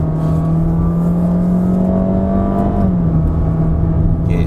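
A 2021 Honda City RS engine drones steadily at high load while climbing the Genting Highlands road, loud and continuous with a constant engine whir whose pitch dips slightly near the end as it shifts or eases.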